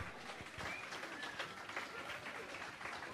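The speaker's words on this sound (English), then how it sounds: "See, some of these women are clapping." Women in a church congregation clap as a faint, distant, continuous patter of many hands that holds steady for about three seconds.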